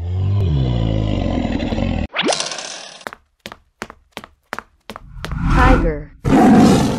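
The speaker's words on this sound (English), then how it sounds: "Dinosaur." A loud, sustained synthetic dinosaur roar in a children's animal painting cartoon, followed by a rising whoosh, a rapid series of sharp knocks and crackling bursts.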